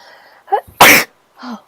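A single sharp sneeze bursts out close by, preceded by a brief intake of breath and followed by a soft vocal sound.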